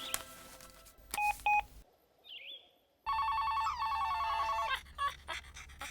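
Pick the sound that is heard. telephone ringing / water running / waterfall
telephone ringing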